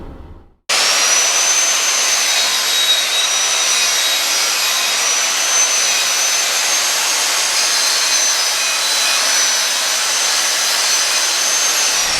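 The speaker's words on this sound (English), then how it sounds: "a wire brush is an ideal tool for that" A wire brush scours light surface rust from the outer bevel and inner bore of a pipeline pipe end, a loud, steady, high-pitched abrasive whir that starts abruptly and runs unbroken to the end.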